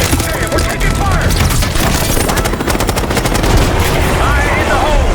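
Dense gunfire from the video game Call of Duty: Black Ops 6, with rapid automatic bursts and heavy booms rolling on continuously and loudly throughout, under brief shouted voices.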